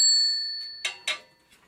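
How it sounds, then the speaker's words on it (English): A bicycle bell on a cheap bike gives one clear, bright ring that slowly fades. Two short rattles and a faint clink follow, all close up with no voices. "But this bell is perfectly fine."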